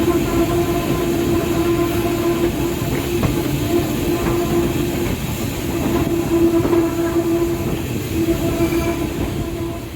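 Heritage steam train on the Tanfield Railway pulling into the platform at East Tanfield during a steam gala, with a steady close rumble of rolling wagons, faint wheel squeal and rail clatter throughout.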